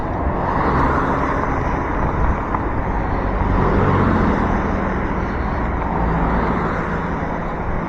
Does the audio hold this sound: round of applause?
no